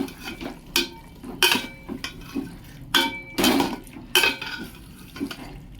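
Chicken being mixed with spices in a pot makes a series of close scraping, clinking strokes, each a short burst about a second apart, with a low rumble underneath and no talking.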